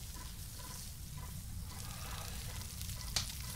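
Food sizzles on a stingray used as a cooking plate in the survival game Stranded Deep: a steady, moderately quiet hiss with a faint bubbling texture and one small click near the end.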